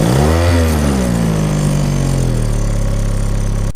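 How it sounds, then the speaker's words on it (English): A boat's outboard engine with a water flow problem runs steadily, loud and close, its pitch sweeping up and settling into a continuous drone with no talk. "The outboard engine had a water flow problem."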